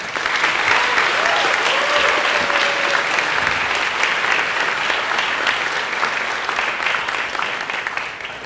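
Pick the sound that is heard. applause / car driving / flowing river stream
applause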